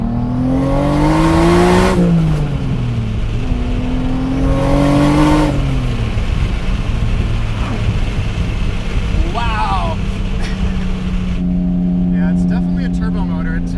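A turbocharged BMW Z3 M Coupe accelerates hard, its engine note climbing through two gear changes and then falling away. Heard from inside the cabin, with people talking over the engine throughout.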